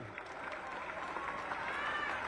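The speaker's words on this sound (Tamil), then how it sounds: "ஒரு கைத்தட்டு பண்ணணும்." An audience applauds, dense continuous clapping that stays even for a couple of seconds, with a voice faintly present underneath.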